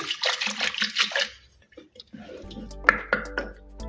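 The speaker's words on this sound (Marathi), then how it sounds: "यात थोडं पाणी घालून त्याला घोळून घेऊया" Water is poured into pressure-cooked spinach in a pot, heard as a splashing pour and gurgle after some brief clattering and handling sounds.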